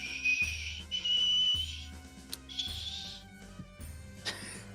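A person whistles in long, steady high-pitched tones, imitating a whistling kenku character: three sustained notes with short breaks between them, fairly loud and close, and no talking.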